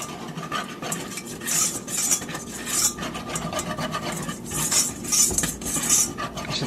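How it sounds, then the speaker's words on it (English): A spoon stirs flour into melted butter in a pan for a roux for fried macaroni and cheese bites, a continuous close scraping and swishing with rhythmic metallic taps against the pan, and no talking. "Now this is what they call making a roux."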